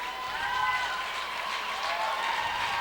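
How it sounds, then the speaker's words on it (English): A crowd applauds steadily at a high school basketball game, a broad even wash of clapping from the stands that holds throughout without a break, with no talk over it. "Well-deserved round of applause from the Puxico."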